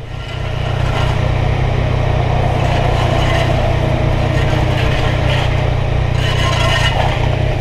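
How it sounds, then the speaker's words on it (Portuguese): A motorcycle engine idling close by on a roadside at an accident scene, a loud steady low rumble that fills the whole stretch with slight fluctuations and no talk over it. "Vamos desligar a moto para não estar aqui a gastar."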